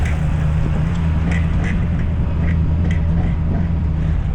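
A 6.4 Powerstroke truck driving slowly, apparently in front-wheel drive, with an engine drone underneath and a series of short, recurring squeaks and creaks from the worn truck spaced through the drive.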